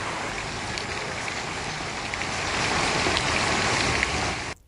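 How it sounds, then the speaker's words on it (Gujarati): Heavy rain pours down in a dense, continuous hiss, steady and loud throughout, swelling slightly toward the end. "ધોધમાર વરસાદ વરસી રહ્યો છે"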